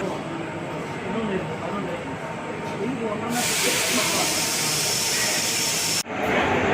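A loud rushing hiss of the Thoothukudi Palaruvi Express pulling in at platform 1 swells midway and holds steady, with a voice talking over the noise.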